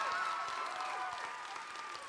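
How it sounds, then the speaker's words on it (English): Steady applause from a crowd at a dinner, dense and continuous clapping throughout, with a faint voice rising briefly above it. "Give him a round of applause."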